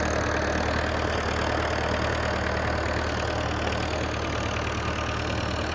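A single-cylinder tractor engine driving a 7 ft double rotavator in second gear, a constant loud low-pitched chugging and mechanical rumble that holds steady and close throughout, with no voices.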